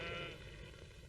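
Sheep bleat loudly and close by in the Snowdonia countryside in springtime, one sustained wavering cry filling the moment without talk.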